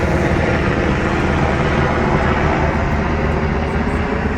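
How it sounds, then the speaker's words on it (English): A loud, steady rotor and engine roar fills the whole stretch, constant and close, with no talking. "more helicopters"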